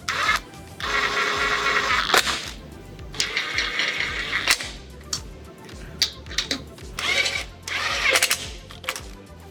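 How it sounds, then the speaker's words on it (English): An impact wrench tightens bolts on an Eleiko SVR weightlifting platform, giving repeated loud, ratcheting bursts of a second or so with short pauses between them, close and mechanical. "Now to get this impact wrench and just tighten everything here."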